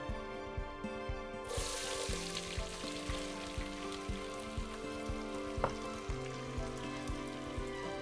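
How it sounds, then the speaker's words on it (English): Chopped onion fries in hot bacon grease in a pan, a soft steady sizzle with faint crackles and small pops, quiet and close, with no talking. "We're frying that up, turn that down a little bit. That bacon grease is good and hot"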